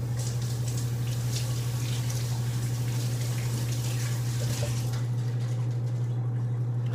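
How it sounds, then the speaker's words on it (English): Tap water runs steadily over fresh asparagus in a kitchen sink, a loud, continuous splashing rush that dips slightly toward the end. "So I'm going to go ahead and wash it first."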